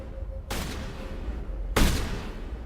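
Gunfire in the sci-fi shooter Mass Effect, two sharp bursts of shots about a second apart over a constant low rumble of game background noise, fairly distant and without speech.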